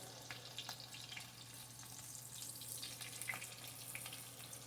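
Eggs frying in plenty of grease in a pan: a soft, continuous sizzle with faint crackles, quiet and steady throughout.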